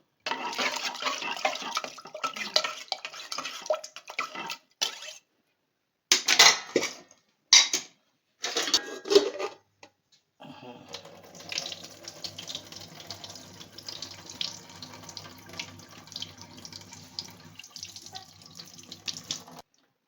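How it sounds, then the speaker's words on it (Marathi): Shevla, a wild jungle vegetable, is washed under a running tap in a kitchen sink, with long steady streams of water broken by a few short splashes and pauses before a final continuous run. "आता धुवून घ्या आणि नंतर परत पाणी ओतू"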